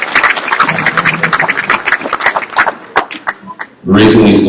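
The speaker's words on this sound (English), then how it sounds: "Let's give you one more round of applause" Audience applause at a live eco power event swells in the final half second as a burst of clapping from a crowd, following a stretch of chattering, quacking-like vocal noise.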